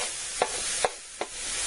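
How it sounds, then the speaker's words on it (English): Lean hamburger and diced onion browning in a pan: three short, evenly spaced scraping stirs over a quiet, steady sizzle, with no talking. "I'm going to brown this all up."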